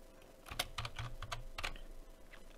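Computer keyboard keys are typed in a short quick burst, a dozen or so close, crisp clicks over a couple of seconds, with no one talking.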